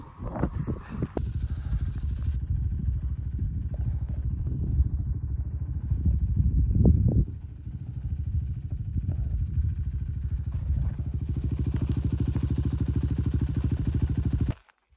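An adventure motorcycle on the Wyoming Backcountry Discovery Route thumps and bounces over big rocks on a trail, its engine droning steadily up close with clattering jolts midway before cutting off at the end.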